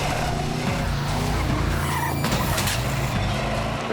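High-powered stunt car driving on a film set: a loud continuous engine roar with tyre skidding and squeal, a surge in the middle, heavy and close throughout.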